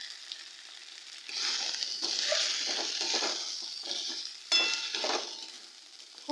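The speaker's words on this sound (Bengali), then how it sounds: "খুব ভালো করে কষিয়ে নেব।" Mutton kaliya masala with red chili powder is stirred and fried in a pot, a continuous hissing sizzle that rises and falls as a spoon turns the spices, close up with no talking.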